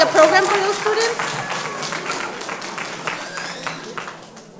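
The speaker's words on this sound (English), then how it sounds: "I couldn't hear the end there because of the clapping" An audience at a public school board hearing claps, loud at first and gradually thinning out over a few seconds, with voices murmuring and speaking through the fading applause.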